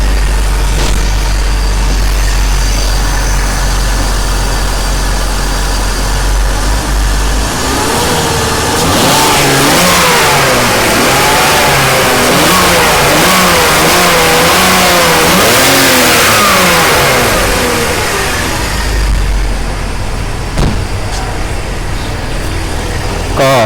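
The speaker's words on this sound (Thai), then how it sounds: "เดี๋ยวจะลอง เล่นเครื่องให้ฟังเสียงเครื่องนิดนึงนะครับ" A 2004 BMW E60 525i sedan engine idles, then revs up several times in rising and falling surges before settling back to a steady idle, close and loud.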